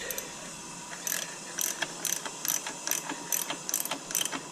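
Ratchet tightening a heater valve screw on a VW Polo engine, quick close clicking in short repeated bursts, fairly quiet and without talk.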